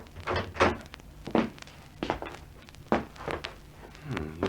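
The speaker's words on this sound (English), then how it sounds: "Now, this door must lead into the cafe," Heavy wooden thunks, creaks and footsteps as a door is opened into a cafe storeroom in an old radio drama, several separate knocks and scrapes close up with no talk.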